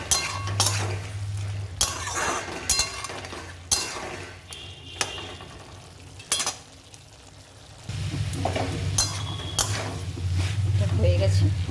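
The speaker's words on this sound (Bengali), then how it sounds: "ভালো করে মিক্স করে নেব।" A spoon stirs spiny gourd and poppy seed curry in a pan, with repeated scraping clinks against the metal over a steady sizzle, while someone talks throughout.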